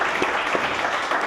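A crowd applauds at a steady, dense level for just over a second, the clapping loud and continuous with no voices on top.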